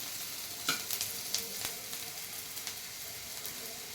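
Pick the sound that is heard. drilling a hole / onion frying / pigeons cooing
onion frying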